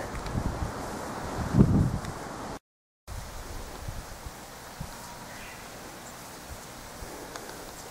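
Cold wind gusting against the microphone on a hike between Tsukigaseguchi and Iga, loud buffeting at first, then a steadier, quieter rush of air with faint rustling.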